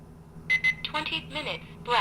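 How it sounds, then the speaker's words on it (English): An Oregon Scientific talking countdown timer gives a short synthesized voice announcement. Clipped, electronic-sounding speech plays close and alone for about two seconds, with a brief tone at the start. "it's going to have a voice announcement every 10 minutes at 50"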